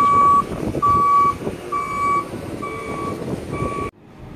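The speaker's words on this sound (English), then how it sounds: "They use a forklift." A forklift loading a wrecked car at an auction yard sounds a loud, steady series of reversing beeps over a rumbling engine, ending abruptly.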